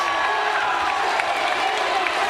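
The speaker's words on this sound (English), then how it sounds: "The crowd goes crazy." Arena crowd at a pro wrestling match featuring AJ Styles, a dense, loud roar of cheering and shouting that holds steady throughout, with no pauses.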